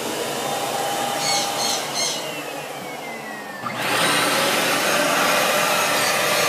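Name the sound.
Miele Twist vacuum cleaner running in noise test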